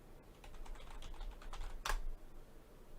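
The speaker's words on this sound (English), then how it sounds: "Tippy tappy typing." Quick, light keystrokes clatter on a computer keyboard in an irregular burst, close and fairly quiet, with one louder key strike near the end and no voices.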